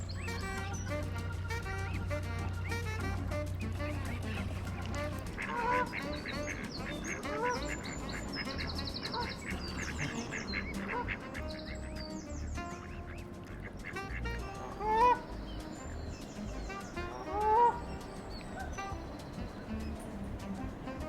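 Geese honk near a canal boat mooring in Berkhamsted, a long run of loud overlapping honks and quacking calls. Some cries rise sharply above the rest, and splashing and other birds mix in at times.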